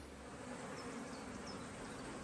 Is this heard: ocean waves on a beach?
no